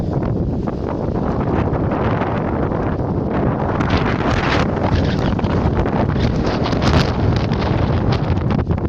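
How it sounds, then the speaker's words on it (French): Strong, constant storm wind roars and buffets the microphone throughout, a dense rumbling rush with no voices. "C'est la première fois que le vent souffle aussi fort."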